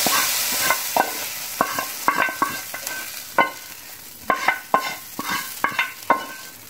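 Pot of brown lentils, a masoor dal, cooking and being stirred, giving a steady simmering sizzle broken by repeated scraping knocks of the spoon against the pot, close and moderately loud, with no one speaking.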